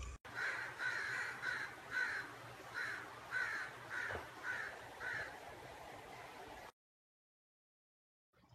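A crow caws about nine times in an even, repeating rhythm, clear and fairly close, then the sound cuts to silence.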